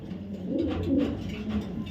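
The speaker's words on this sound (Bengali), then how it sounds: "সেই রকম কোয়ালিটির একটা নর কবুতর" A male racing pigeon coos softly nearby, a low throaty rolling call repeated a couple of times with nothing else over it.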